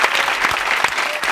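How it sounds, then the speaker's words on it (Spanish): Steady applause from a Spanish comedy show audience, dense clapping throughout at moderate loudness with no pauses. "Un aplauso para Jaime"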